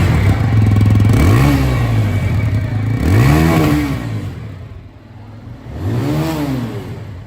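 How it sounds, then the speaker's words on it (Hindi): A TVS Apache RTR 180 motorcycle idles close by with a throbbing exhaust, then revs three times, each blip rising sharply in pitch and falling back to a steady, loud idle. "ये जो 180 वर्जन है इसका भी जो एग्जॉस्ट साउंड है वो भी मैं आप लोग को यहाँ पर सुना दूँ"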